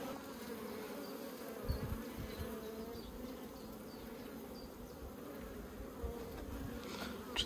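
A swarm of honey bees drones continuously around a hive frame during May splitting work, a close steady buzz with a few brief bumps and no voices.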